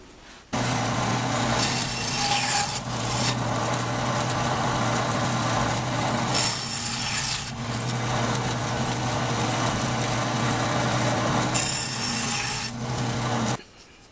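A saw cuts small wooden burr puzzle pieces, producing a loud, continuous machine whine and rasp that runs close and steady for most of the stretch, with brief changes in tone between cuts and no talking.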